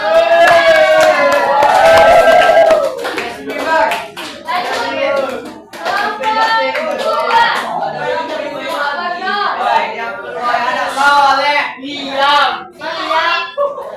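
Classroom applause after a lesson in Indonesian, clapping from a group of students, loud and dense at first, then giving way to children's chatter and voices over the hands.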